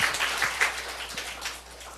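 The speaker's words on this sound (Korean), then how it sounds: "우리 하나님께 박수 올려드려요." Applause from a church congregation during a morning worship service, a dense, steady wash of clapping that holds for the whole stretch at moderate volume, with no voices over it.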